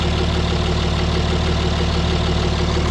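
A 5.9 Cummins diesel in a third-generation Dodge Ram, fitted with a BorgWarner S364SX-R turbo, idles steadily with a loud, continuous low rumble and no pauses.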